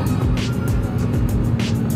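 A 2004 Suzuki Karimun with a carburetor drives in fifth gear, its engine a steady low drone heard from inside the cabin, with a faint whoosh of passing air.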